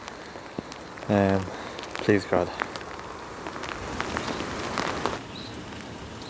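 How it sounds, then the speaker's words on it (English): Rain falling outdoors in Ireland during metal detecting, a steady diffuse patter close by with a brief burst of speech in the middle. "Starting to rain."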